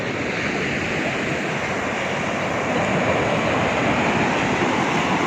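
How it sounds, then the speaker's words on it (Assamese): Sea waves rolling onto a beach in Goa make a steady, loud wash of surf that never breaks into separate crashes, with a windy roar throughout and no voices. "সাগৰৰ ঢৌ"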